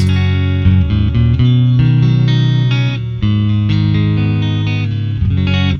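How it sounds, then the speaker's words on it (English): Clean electric guitar plays through a Joyo cab simulator with no reverb, a steady run of plucked notes and chords, loud and dry with no voice over it. "That's the clean sound, no reverb on."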